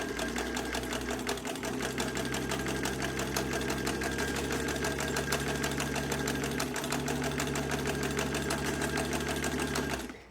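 A Kenmore 117 sewing machine runs steadily at speed, its needle mechanism clattering in a fast even rhythm over a low whirring motor and a mechanical vibration from the engaging wheel, close and alone.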